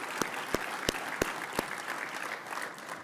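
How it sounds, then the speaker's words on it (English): Audience applause at the 49th Annual Groundhog Luncheon, a baseball event, heard as steady clapping from a room of diners with several sharper, louder claps standing out near the start. "please give them a big round of applause and thank them for their efforts"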